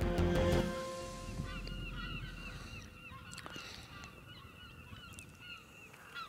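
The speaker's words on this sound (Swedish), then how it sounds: "Vi ser att det är lite mås i luften här." Gulls circling over a lake during a perch fishing trip, calling repeatedly in overlapping cries, some near and some farther off, above a steady outdoor rush of wind and water.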